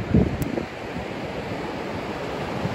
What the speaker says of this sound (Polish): Zobaczcie, jak daleko fale sięgają.